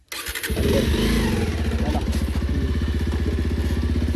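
A motorcycle engine cranks and catches, then settles into a loud, steady, close idle with an even pulsing thump, and a voice speaks briefly over the start.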